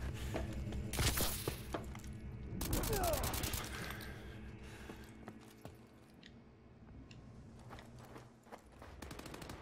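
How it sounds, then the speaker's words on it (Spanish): Enemy gunfire in Call of Duty Advanced Warfare online on PS4, with bursts of automatic fire and sharp shots that are loud and close early on, then a thinner rattle of scattered shots, under a busy game soundscape. "Estoy escuchando a un señor cagarme a tiro."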